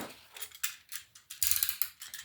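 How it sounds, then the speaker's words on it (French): A utility knife cutter's blade is clicked out notch by notch, giving a quick series of close, sharp ratcheting clicks in uneven bursts with no talking. "On prend son cutter."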